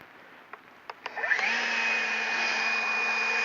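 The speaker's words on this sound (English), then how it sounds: "So this is the battery-powered leaf blower, a battery-powered leaf blower." A Husqvarna 320iB battery-powered leaf blower gives a few clicks and then spins up into a steady, close, high-pitched electric whir and airy rush that holds constant to the end.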